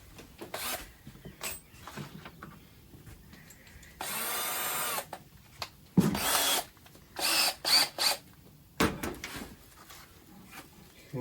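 A power drill drives the first screw while a screen door closer is installed, giving a few short whirring bursts of varying length, close by in a quiet room.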